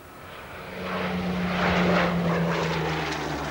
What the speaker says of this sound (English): the Supermarine Spitfire, probably the most famous aircraft ever to fly for the Royal Air Force